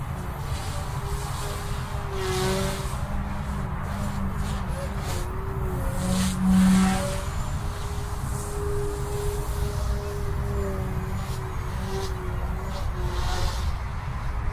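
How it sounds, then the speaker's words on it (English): A small OMP M2 EVO direct-drive RC helicopter hovers in idle up at high head speed, giving a steady whine and hum from the rotor and motor that holds even, with faint outdoor noise behind it. "Let's take her into idle up 2. This is the high head speed."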